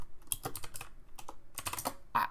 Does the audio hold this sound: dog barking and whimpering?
no